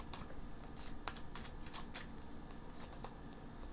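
Tarot cards being laid out on a surface, a string of soft papery slaps and slides at irregular intervals, close and quiet over a dense background hiss, no voices.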